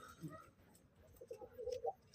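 Soft, low pigeon coos come and go in a quiet space on a pigeon farm, faint and somewhat distant, with a few murmured rolling calls toward the end.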